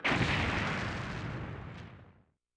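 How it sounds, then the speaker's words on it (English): Explosion in the video game Resident Evil 2: one loud, broad blast hits at once and its rumbling tail fades over about two seconds, alone and without talk. "Pretty sure that would have caused a bigger explosion."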